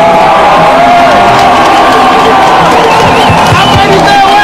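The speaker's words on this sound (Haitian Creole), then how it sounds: "Applaudissez-les s'il vous plaît." A large crowd at a solidarity rally cheers and applauds steadily, a loud dense roar of voices and clapping with occasional whoops throughout.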